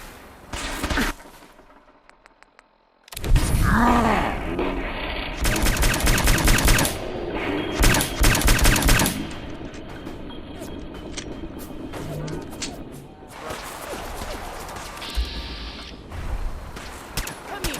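Bursts of gunfire and mechanical clatter fill a Fallout 4 combat scene, with rapid automatic volleys and creaking metal amid shouted voices, loud and close.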